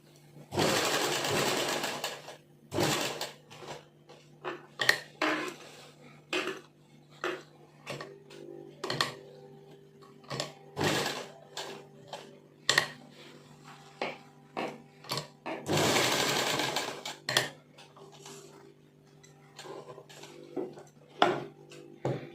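A sewing machine stitches a pocket into a salwar in several loud bursts of running stitches, separated by short pauses and small clicks of handling fabric, with no talking.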